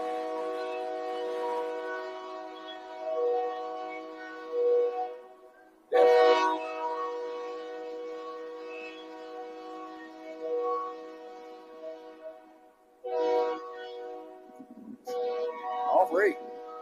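A train horn blares in long sustained chords near a minor league baseball field, sounding loud and close over stadium ambience, with a commentator talking over it.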